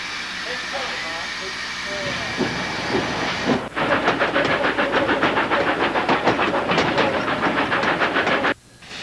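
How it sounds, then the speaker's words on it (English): Tweetsie steam train of the ET&WNC narrow-gauge railroad, standing at Shell Creek: a steady loud hiss of steam, then from about four seconds a rapid rhythmic chuffing as it works, with an abrupt drop near the end. "The train pauses at Shell Creek to pick up defense workers heading to their jobs in Benburg"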